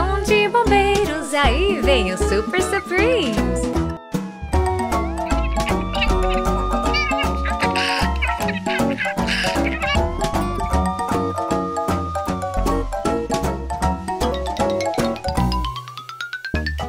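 Repeated cartoonish kitten meows over a bright, busy children's song with steady music throughout, the cat calls blending into the melody.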